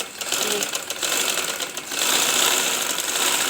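A sewing machine runs through a seam, laying a second line of stitching over the first, with a continuous close motor whir and rapid needle chatter that grows slightly louder toward the end.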